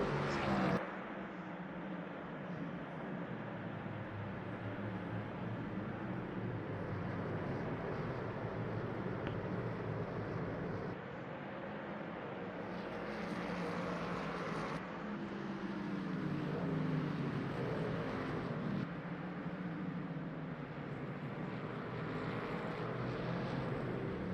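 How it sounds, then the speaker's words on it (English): A Ford Mustang GT3 engine in the racing video game Le Mans Ultimate, a continuous droning roar rising and falling with faint voices underneath. "Let that engine sing on that Mustang."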